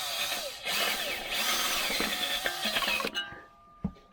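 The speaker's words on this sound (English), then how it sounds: "Manifold studs, I'm going to get the wire brush on them." A harsh, steady scrubbing and whirring of a wire brush on exhaust manifold studs of a Volvo 940 Turbo runs for a few seconds, then cuts off, leaving faint clinks.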